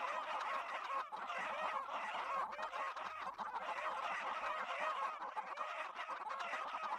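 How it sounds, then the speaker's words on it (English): A crowd of loud chickens in the video game Lost Harmony clucks and squawks continuously, overlapping calls dense and steady throughout, with no talking. "A lot of very loud chickens."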